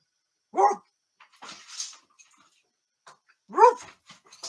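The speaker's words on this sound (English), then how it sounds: "And there's the dog again." A dog barks twice, loud and close, a few seconds apart, with softer rustling and small noises between the barks.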